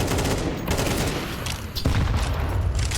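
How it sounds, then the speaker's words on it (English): Grenade blasts in a Counter-Strike match on the Inferno map, heard as dense loud explosive bursts and gunfire-like crackle running continuously, with a sharp booming hit near the middle. "Oh, the second nade as well."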